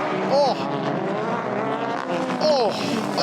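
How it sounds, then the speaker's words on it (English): Loud engine roar of a BTCC touring car going off at high speed and rolling over in a British Touring Car Championship race, sustained racing noise with tire squeal bursts, under excited commentary. "Oh no, high speed off for Butcher and rolled over"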